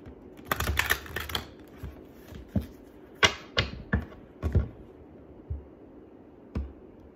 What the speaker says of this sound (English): Let's shuffle it one more time.